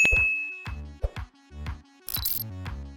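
A bright notification bell dings several times in a quick, cheerful sequence, with short chiming tones and a sparkly flourish near the end, crisp and close with no voices.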